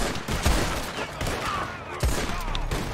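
Rapid video-game gunfire in Moonshine missions, a loud burst of shots with a few sharper heavy reports standing out against continuous game noise, no talk over it.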